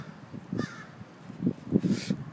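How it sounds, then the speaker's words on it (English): A crow perched on the eave of a building caws twice, a single call followed by a burst of harsh caws, moderately close outdoors with faint background noise. "You might be able to see the crow there on top of the building there on the eave."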